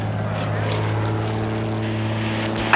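Steady, loud drone of a propeller airplane, constant engine hum with no break across the whole stretch, as during a wing-walker rescue flight.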